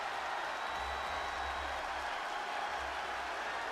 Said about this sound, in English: But there should still be the crowd noises.